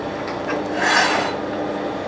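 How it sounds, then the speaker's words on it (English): Sandpaper rasps against a small Osage orange wood bowl spinning on a lathe, a steady close rubbing hiss that swells briefly in the middle, with no talking. "Onto sanding."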